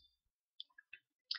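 A few quiet, crisp mouse clicks, spaced out in near silence, while working in Autodesk 3ds Max.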